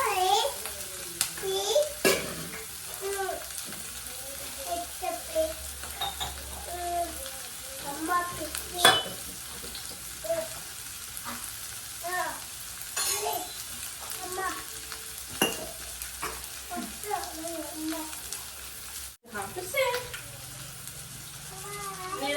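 Food fries in a pan until lightly pink, a soft continuous sizzle with occasional stirring, heard beneath frequent conversation that includes a voice.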